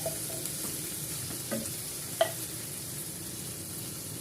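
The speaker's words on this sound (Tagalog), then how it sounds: "Naglagay ulit ako ng mantika at igigisa ko naman ang corned beef." Corned beef sautés in hot oil in a pan with a soft, steady sizzle, broken by a few light stirring scrapes and one sharp utensil click.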